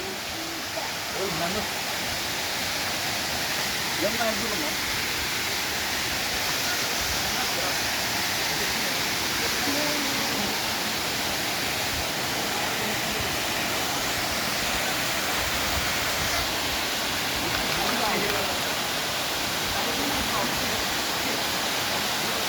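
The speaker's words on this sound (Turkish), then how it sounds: "Baya yüksek bir şelale" A high waterfall at Erikli near Yalova, Turkey, gives a steady, dense roar of falling water. The rush holds even and unbroken, close and loud, for over twenty seconds.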